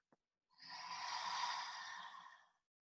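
One long, forceful breathy exhale for a yoga lion's breath, a close, loud hiss lasting about two seconds after a brief click, with no talking.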